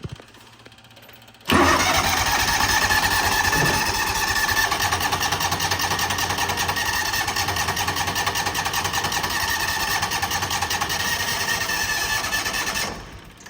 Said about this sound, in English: You can tell it was running on one cylinder